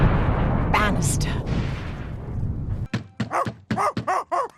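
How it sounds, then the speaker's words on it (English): Dog in an animated film barking in a quick burst of sharp yaps near the end, following a stretch of dense noisy rumble. "What is that dog?"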